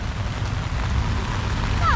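Light rain patters steadily on a surface, a soft continuous hiss with no voices.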